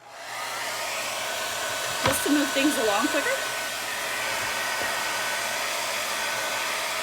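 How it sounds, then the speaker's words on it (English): A hair dryer blasts steadily and loudly at close range over freshly painted white sections of a wooden Valentine's door hanger, with a brief spoken remark partway through. "I'm gonna go ahead and blast my dryer on there"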